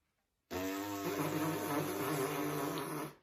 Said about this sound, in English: with the mouthpiece, we buzz our lips,